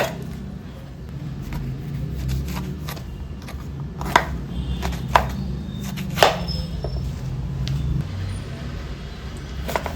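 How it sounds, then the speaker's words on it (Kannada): Breadfruit is being chopped into thick pieces, with a few separate, fairly sharp knife chops spaced a second or so apart over a low rumbling background. "ಸ್ವಲ್ಪ ದಪ್ಪ ದಪ್ಪನೇ ಕಟ್ ಮಾಡಿಕೊಳ್ಬೇಕು."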